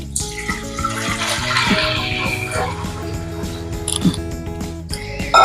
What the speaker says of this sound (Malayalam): ഇനി ഇതിലേക്ക് ഞാൻ 1 കപ്പ് വെള്ളം ഒഴിച്ചു കൊടുക്കാൻ പോണ്.